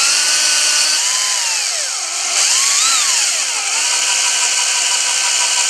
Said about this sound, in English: I'm going to continue drilling the rest of the holes where they need to be.